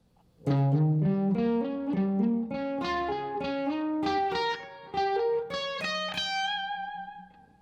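An electric lead guitar with a driven, effected tone plays dominant 7th arpeggios, a quick succession of single notes climbing in repeated runs and ending on a ringing, sustained top note.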